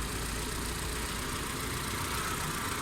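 A Hyundai Santro with a fuel-consumption fault runs steadily on a road trial, its engine a continuous loud drone with road noise and no break for the whole stretch.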